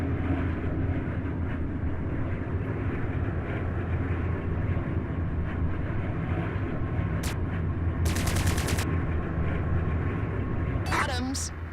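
Plasma cannons fire in the space combat game Strike Suit Zero, short bright bursts and a rapid volley over a constant engine drone, with one whooshing sweep near the end.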